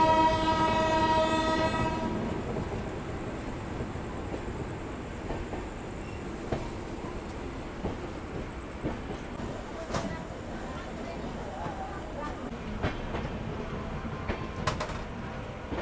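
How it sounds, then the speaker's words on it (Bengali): Passenger train, the Darjeeling Mail, departing Sealdah railway station: a horn blares at first, then fades into steady rumbling wagon noise with clanks and rattles, under a person talking in the station. "আমাদের ঐতিহাসিক দার্জিলিং মেল ছেড়ে দিল শিয়ালদা রেলওয়ে স্টেশনের 52 নম্বর প্ল্যাটফর্ম থেকে"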